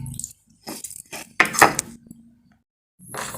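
Ginger and garlic are crushed together by hand: short bursts of hard grinding, scraping and clinking come in uneven spurts, close and fairly quiet, with brief silent gaps between strokes.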